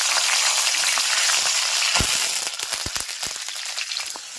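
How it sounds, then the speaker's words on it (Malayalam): Coconut oil hisses loudly and steadily, then sharp pops and crackles break out as green chilies and curry leaves hit the hot pan and keep sizzling. "നമ്മൾ വെളിച്ചെണ്ണയ്ക്കകത്തേക്ക് ഇത് കടുക് അത് മൂത്രം നമുക്കിനി പച്ചമുളകും കറിവേപ്പിലയും ഇടാം."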